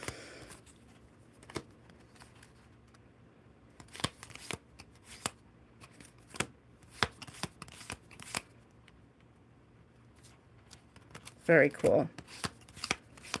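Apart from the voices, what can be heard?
handling tarot cards while searching for sword cards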